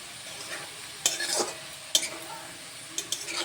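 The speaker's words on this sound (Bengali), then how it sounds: "শুধু লবণ দিয়ে লাল করে ভাজবো। আর আমি রান্নাটা করছি সরষের তেলে।" Potatoes fry in mustard oil with only salt, a low steady sizzle broken by three short bursts of stirring and pan scraping.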